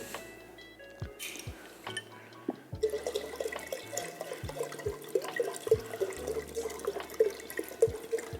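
Plain kombucha is poured into sweet tea in a kitchen, a soft continuous liquid trickle with scattered light clinks and drips, quiet and close, no speech.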